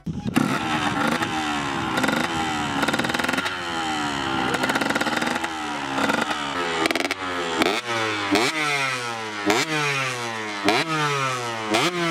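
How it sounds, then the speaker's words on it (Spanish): A two-stroke 2013 KTM 125 SX dirt bike engine revs over and over nearby, its pitch swooping up and dropping back in a rapid, buzzy rhythm. "La moto es una, una KTM 125 del 2013. No sé, tío, dos tiempos"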